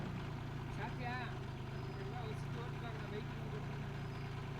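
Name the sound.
tractor driving while earthing up soil in casuarina field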